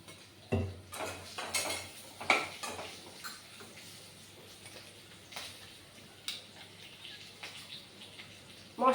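Spoon clinking and scraping in a bowl while ginger, sugar and spices are stirred together, with scattered light taps and knocks, close and fairly quiet, and no one talking.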